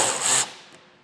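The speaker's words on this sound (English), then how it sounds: "We have a 10mm bolt here that we'll remove." A tool works a 10mm bolt loose on a 2021 Jeep Grand Cherokee, making a brief close rasping whir for under half a second that quickly fades into quiet.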